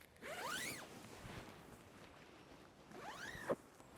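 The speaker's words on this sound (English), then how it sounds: "if you open all this zipper" A sleeping bag zipper pulled open in two long, rasping sweeps, the first near the start and the second near the end, with a quiet pause between them.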